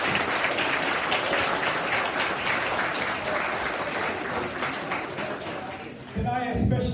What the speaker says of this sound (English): can we just give a big round of applause